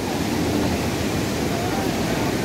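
The Parvati river rushes beneath a bridge at Manikaran Sahib, a loud, steady broadband roar of flowing water filling the whole clip.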